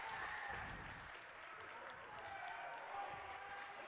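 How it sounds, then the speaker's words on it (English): A high school girls' basketball gym crowd cheering and applauding after a made layup, a steady roar of voices and clapping heard at a distance beneath a play-by-play announcer's commentary. "And you can hear the crowd now."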